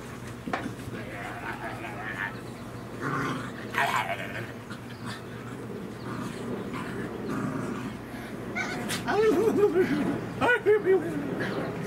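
Small dogs growl and yip playfully amid scuffling, with a person talking and laughing over them at close range.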